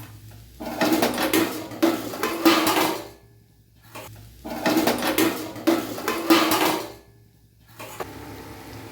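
Metal cookware clatters and rattles in two repeated bursts as a lid is handled and set over a pan of cooking for aloo paratha and roasted momos, each burst separated by a short quiet gap; no voices.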